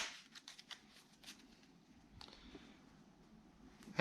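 A deck of playing cards being given a quick shuffle, with a burst of crisp riffling clicks at the start, softer card slides and taps after, then a louder snap at the end.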